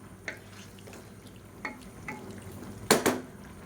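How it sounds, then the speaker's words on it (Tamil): Hot water poured into sautéed chicken gravy in a pressure cooker gives a short sizzling splash near the end, after a few faint utensil clinks and stirring scrapes. "நல்லா கொஞ்சம் சூடான தண்ணியாக சேர்த்துக்கோங்க"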